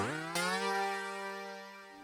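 A sustained Diva synth chord preset glides upward in pitch to settle on its root note, a bright, rich tone with a soft attack that holds and slowly fades.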